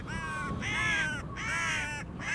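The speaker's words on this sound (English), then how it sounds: "But they're noisy crows, aren't they?" Crows cawing at the Anfield Road construction site in Liverpool: three long, loud, harsh caws close by, with brief gaps between them over a steady low background rumble.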